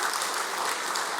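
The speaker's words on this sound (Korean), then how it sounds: "우리 한번 격려의 박수 한번 해주시면" A church congregation applauds together in a dense, steady wash of many hands clapping that holds evenly throughout, with no talking over it.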